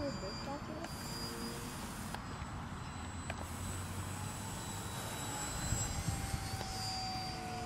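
A Dynam Sbach 342 RC aerobatic plane on a 4S setup flies over a baseball field, its faint, steady motor whine carrying from a distance throughout over a bed of outdoor background noise.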